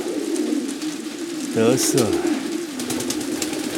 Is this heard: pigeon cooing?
yes